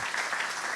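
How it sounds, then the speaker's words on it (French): Brief, dense applause from an audience at a biogas plant tour, an even wash of clapping with no voices over it. "Moi, je propose un applaudissement"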